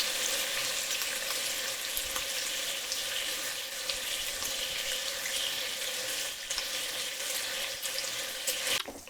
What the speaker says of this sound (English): saute the bacon in the oil over moderate heat for 2 to 3 minutes to brown lightly